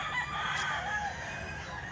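A golden boy sweater rooster, 11 months old, crows in a sustained, fairly close call against steady ambient noise, with no one talking.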